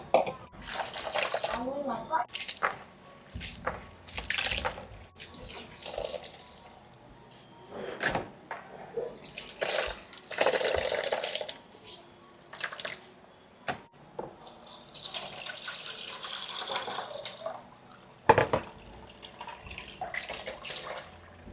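Water poured and splashing in a large basin as grated coconut is squeezed by hand to press out coconut milk for glutinous rice nasi lemak; intermittent wet splashes and drips, close, with a voice talking between them.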